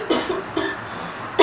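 A person coughs three times in a short demonstration of proper coughing etiquette, each cough a sharp close burst, the first two evenly spaced and the last one louder, with no talk between them.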